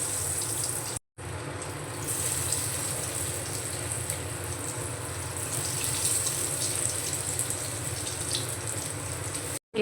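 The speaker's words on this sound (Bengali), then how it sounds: "গ্যাসের ফ্লেমটা মিডিয়ামে রেখে চপগুলো ভেজে নেব।" Leftover-rice chops fry in medium-hot white oil in a kadai, giving a steady, close, broadband hiss and crackle that runs through nearly the whole stretch, broken only by one brief gap near the start.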